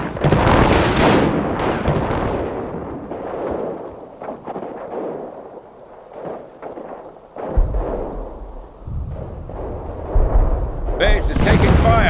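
Company of Heroes battle: heavy booming artillery and gunfire blasts, dense at first, then sparser thuds and rumbles, with a low rumbling barrage returning toward the end.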